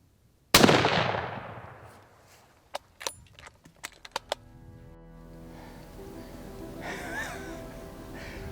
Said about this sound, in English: Now with the 300 Win Mag, you kind of lose everything in the recoil.